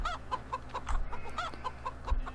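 Chickens cluck in the Farming Simulator 15 video game, a run of short, evenly spaced clucks repeating at a quick rhythm, fairly quiet over a low background hum.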